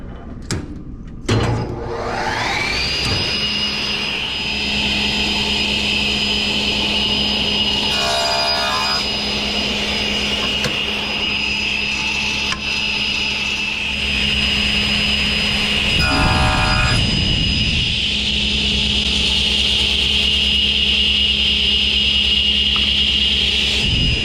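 A woodworking machine spins up with a rising whine and cuts wood stiles for a face frame, a loud steady high-pitched drone, with two brief bursts of harsher cutting noise partway through.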